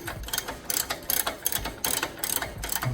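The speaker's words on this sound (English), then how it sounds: "Ratchet, and I'll just snug it down." A ratchet wrench snugs down a nut with a lock washer while installing Koni heavy track shocks on a Mitsubishi Montero, giving a quick series of close, crisp clicking bursts in a repeating back-and-forth rhythm, with no talking.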